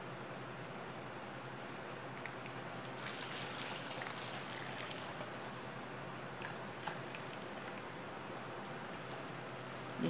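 About 500 ml of water being poured into a pot for making milk body soap, a steady hissing rush of liquid that runs evenly and fairly quietly throughout.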